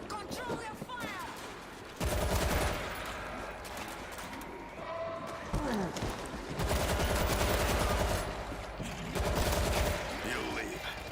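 Gunfire in a zombie shooter video game, with bursts of rapid shots coming in heavy loud stretches between quieter moments, mixed with game sounds and bird chirps and with voices talking over it.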